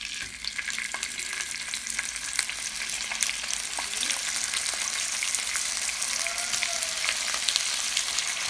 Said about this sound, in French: je vais griller mon poisson salé